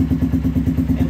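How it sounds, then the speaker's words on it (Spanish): Exhaust of a Cargo 150 motorcycle with a gold and black custom build, idling in a close, loud, steady low throb with an even pulsing rhythm. "Queremos escuchar cómo se oye el escape, ¿no?"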